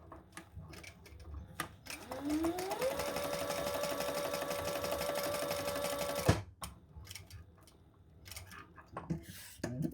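A sewing machine bastes a zip around a travel wallet, a steady whirring hum that starts up, runs evenly for about four seconds and stops abruptly, surrounded by soft handling clicks and rustles nearby.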